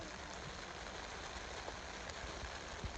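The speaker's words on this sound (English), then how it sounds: "Dude, look how cool the rain looks." Steady rain hisses down outdoors at night on a South Florida fishing outing, a soft, even wash of drops that never lets up, with no talk.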